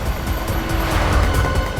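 A car drives fast during a police chase through a lake area, its steady engine roar and road rumble continuous and fairly loud throughout, with no voices.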